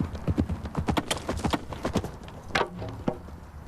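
A horse's hooves clip-clop in quick, steady strides over about four seconds, fairly close and clear, as the rider makes a lance charge at a target.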